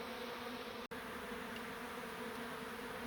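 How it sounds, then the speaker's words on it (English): Bees buzz around a brick beehive being relocated, a dense, steady hum of many insects close by, continuous apart from a brief dropout, with no talking. "a cluster of bees just there"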